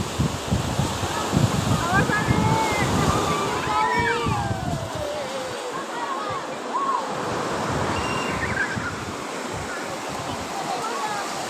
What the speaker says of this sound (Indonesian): angin berhembus sepoi-sepoi, dan pemandangan laut yang indah dan airnya biru